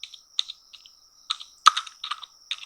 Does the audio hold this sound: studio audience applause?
no